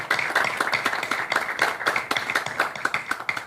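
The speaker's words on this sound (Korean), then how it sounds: "여러분 큰 박수로 환영해 주시기 바랍니다" Loud, close rhythmic clapping from a crowd welcoming a speaker at a book concert in Busan, sharp individual claps falling into a fairly regular beat for several seconds.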